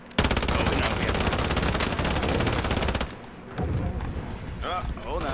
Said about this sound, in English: Somebody's over here shooting.